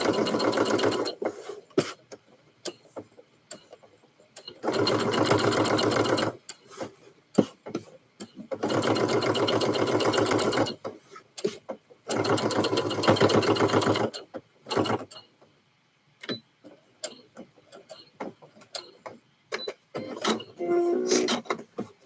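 A sewing machine stitches a male scrub top in long, loud whirring runs. Short pauses and scattered clicks and handling noises break up the runs.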